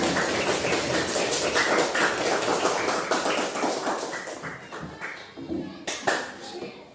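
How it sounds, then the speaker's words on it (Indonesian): Group of people in a room applauding together, a brisk, dense clatter of many hands that carries on for several seconds before gradually thinning out into scattered claps. "Tepuk tangan dulu kita semua."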